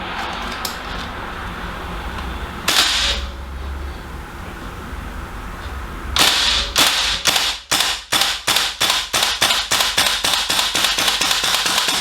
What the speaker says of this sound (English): First shots of the TM AKM.